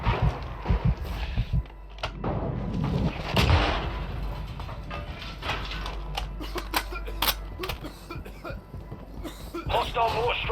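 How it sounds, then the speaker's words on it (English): Mortar strike explosions land in Call of Duty Warzone, a run of booming blasts and sharp cracks scattered in bursts, fairly loud and close, mixed with game clatter and a brief voice. "Hostile mortar strike incoming."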